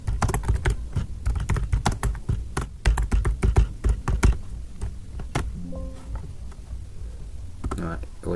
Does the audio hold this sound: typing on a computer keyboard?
yes